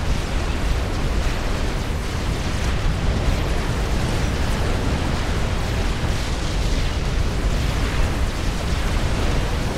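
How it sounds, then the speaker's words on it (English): Torpedo bombers strike a battleship in the real-time strategy game Supreme Commander, in a 4v4 match, with a continuous, loud wash of overlapping explosions and rumbling blasts that never lets up. "Nice wave of torpedo bombers there, laying down a lot of damage on the battleship belonging to Explosive"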